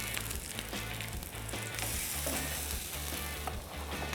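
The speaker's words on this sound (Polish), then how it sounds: "Ruszcie od czasu do czasu plackiem, wtedy on będzie równo smażony z każdej strony, na bokach, wewnątrz." A Hungarian-style potato pancake frying in oil in a pan, with a steady close sizzle and crackle that continues throughout, alongside faint scraping and stirring movements.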